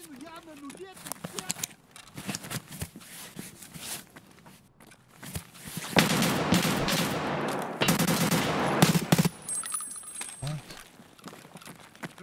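A scav opens fire in Escape From Tarkov: bursts of rapid automatic gunfire, sharp and close, with louder sustained volleys near the middle, while someone talks over the shooting.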